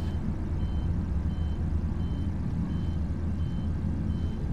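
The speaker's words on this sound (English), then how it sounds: "that beeping is gonna attract this bastard" In the Alien Isolation video game, a faint electronic beep repeats at an even pace, roughly once a second, over a constant low mechanical hum.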